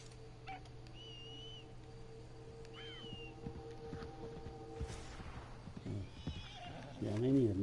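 A horse in the Red Dead Online video game whinnies and snorts, with hooves clip-clopping and faint birdsong in the background; a loud neigh comes near the end.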